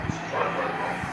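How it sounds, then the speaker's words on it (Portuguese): A dog at home gives two short, faint barks, set a second apart, under a low hum of background noise and quiet voices. "Tem essa cachorra ali."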